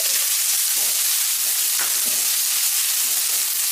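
Chopped onions frying in hot mustard oil in a frying pan, giving a loud, steady sizzle and hiss that runs unbroken throughout, with faint stirring underneath and no voices.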